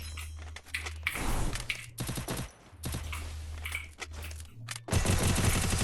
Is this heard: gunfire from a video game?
yes